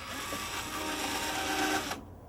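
A power drill whines steadily at high speed for about two seconds drilling screw holes, then abruptly stops.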